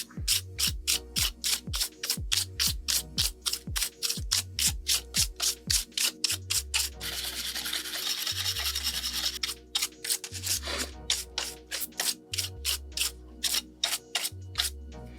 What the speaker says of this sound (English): clean it out real quick using a ESD safe, so no electrostatic discharge brush here, just to get all this out